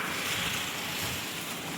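The Baitarani river surges in strong flood flow, a steady, loud roaring rush of water with some wind buffeting the microphone and no pauses.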